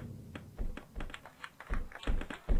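A string of quick, light tapping thuds from bombs in a flash video game, irregular and fairly faint, arriving in small clusters like clicks on a keyboard.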